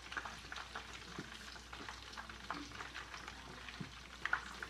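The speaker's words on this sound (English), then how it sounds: "while we wait for this to fry up" Faint, quiet sizzling of food frying in a pan, with soft crackles and pops scattered irregularly throughout.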